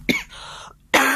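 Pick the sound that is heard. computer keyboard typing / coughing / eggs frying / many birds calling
coughing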